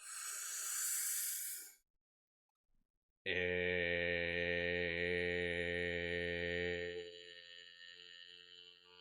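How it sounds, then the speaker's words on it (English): Loud breathing during a guided meditation: a breathy hiss, a brief pause, then a long, forceful exhale that rasps in the throat and fades out over several seconds. "Do a little bit louder this time if you want. Inhale."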